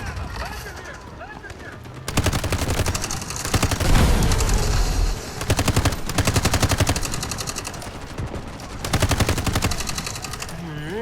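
Rapid automatic AUG rifle fire in the mobile shooter Delta Force Mobile, loud close bursts of dense gunfire repeating across the clip with short pauses between volleys and brief quieter stretches at the start and end.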